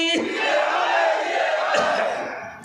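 A large crowd at a rally roars a takbir chant in unison, a loud, sustained collective shout that rises and holds before fading at the end.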